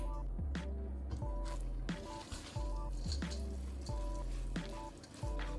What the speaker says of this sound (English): I'm just making sure that I rub the seasoning in.